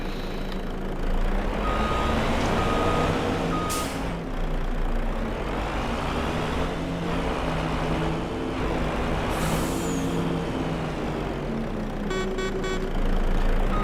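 Reversing alarm on a truck being parked in Farming Simulator 25, beeping in a short repeated burst near the end over a steady engine rumble and occasional air-brake hiss.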